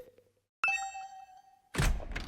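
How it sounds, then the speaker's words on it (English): A doorbell in the video game Hundred Line Last Defense Academy gives one sharp, bright electronic chime that rings on and fades, then a burst of loud, noisy rattling follows. No voices are heard. "the sound of my doorbell ringing over and over"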